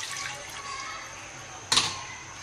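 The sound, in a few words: water being poured into a cooking pot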